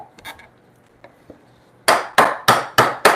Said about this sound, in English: Generally, framing chisels, you don't hit them, but here I have no choice.